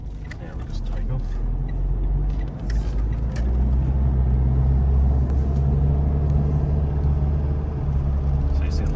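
A Mitsubishi Challenger or Triton fitted with an auto-mate torque converter lockup pulls away in drive, its engine a steady low rumble heard from inside the cabin with no break for the full stretch.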